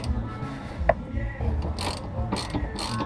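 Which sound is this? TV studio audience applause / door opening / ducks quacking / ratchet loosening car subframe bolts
ratchet loosening car subframe bolts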